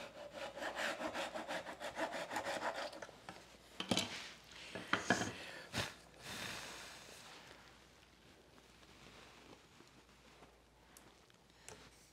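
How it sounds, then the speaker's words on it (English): An old Japanese hand saw with a curved bottom edge rips through wood in quick, even strokes, loud and close at first, then trails off into a few scattered scrapes and knocks, with no talk. "So I have an old Japanese saw that has a radius on the bottom"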